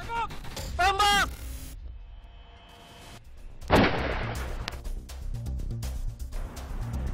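Weapons of a mechanized infantry battalion fire in a single heavy blast that rolls into a long rumbling echo, preceded by radio chatter and a shouted voice over background noise.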